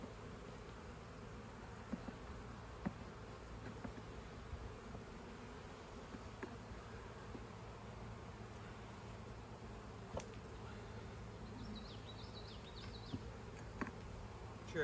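Honeybees in an opened hive during a varroa treatment, a faint steady buzzing drone with a few small knocks, quiet and continuous with no talking.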